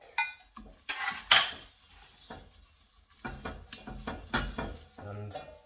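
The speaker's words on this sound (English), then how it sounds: "So this is the point where you add the stock." Liquid chicken stock pours into a pan of melted butter mixture, with a few sharp clinks of utensils against the pan followed by soft stirring and faint sizzling, fairly quiet and close.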